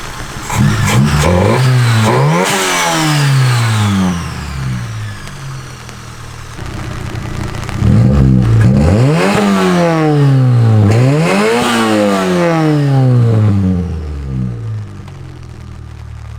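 A small four-cylinder engine in a Mazda 121 revs hard several times, pitch sweeping up and dropping back between blips, loud and close with idle pauses between.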